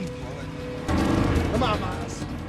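A single gunshot in a film chase scene near a truck at a border, one loud boom with a long rumbling tail over background score and effects.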